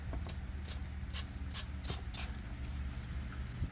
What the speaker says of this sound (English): Spray some water in there.